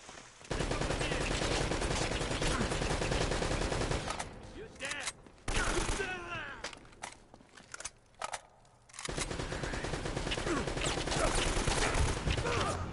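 Heavy automatic gunfire from the video game Uncharted: Drake's Fortune, sustained bursts of rapid shots that drop out briefly in the middle before resuming loud and dense, with a voice talking over the action.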